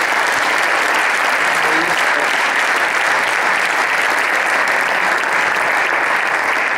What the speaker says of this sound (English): Yes, big applause.